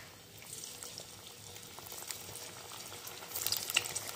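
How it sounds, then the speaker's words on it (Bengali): A crispy corn pakora cutlet is dropped into hot oil, and the oil sizzles and bubbles softly at close range, swelling slightly toward the end, with no talking. "এখানে তেলটাও গরম হয়ে গেছে, এবার ছেড়ে দেবো তেলের মধ্যে।"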